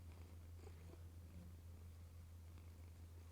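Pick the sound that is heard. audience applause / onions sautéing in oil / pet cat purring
pet cat purring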